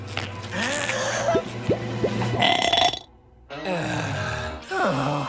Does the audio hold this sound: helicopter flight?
no